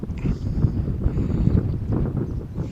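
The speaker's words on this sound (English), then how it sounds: "It's still windy and increasing." Storm wind gusting across Malaga Airport, a steady low rumbling roar with buffeting surges throughout, loud and continuous with no voices.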